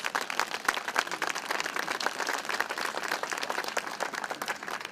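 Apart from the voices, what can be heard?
audience applause at a ribbon cutting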